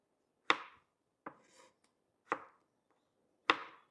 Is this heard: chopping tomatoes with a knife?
yes